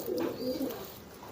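A young pigeon gives a soft, low cooing call in one short, steady phrase, close and fairly faint with no other sounds.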